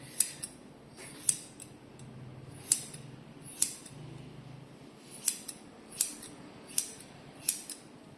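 Scissors snip steadily, about a dozen crisp close metallic cuts at a loose, uneven rhythm, with quiet pauses between them and no talking.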